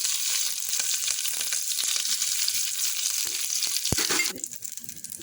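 Cumin seeds and green chillies sizzle fiercely in hot ghee, a bright close crackle and hiss with popping spatters that drops off sharply near the end.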